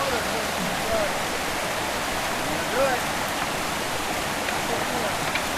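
A creek runs over rocks in a steady broadband rush, constant and fairly close, with faint voices and a few brief chirps drifting over the water.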